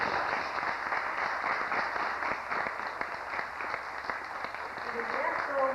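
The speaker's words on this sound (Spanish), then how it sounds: "Nuevamente un fuerte aplauso" Applause from an audience at an official university book launch in a theatre in Cusco, Peru, a steady sustained round of clapping filling the whole stretch at moderate level, with a faint voice surfacing near the end.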